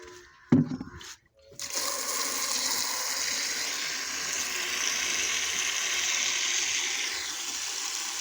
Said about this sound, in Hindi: तो देख सकते हो गाय को पानी पिला रहा हूँ।